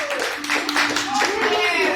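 A crowd claps its hands at an outdoor bird show in Dubai, a dense, continuous patter of applause mixed with loud cheering and voices.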